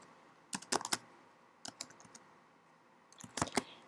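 Quiet bursts of computer keyboard typing, three quick clusters of clicky keystrokes separated by short pauses, close and clear in a calm room while an account name is entered into accounting software.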